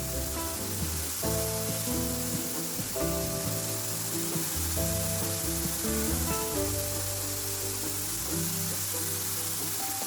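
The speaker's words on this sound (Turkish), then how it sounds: "Patateslerimiz bu şekilde kızarırken tuzunu atmayı da unutmuyoruz" Potatoes fry in a pan for a Turkish potato-and-egg breakfast dish, a steady hissing sizzle heard beneath continuous tonal background music.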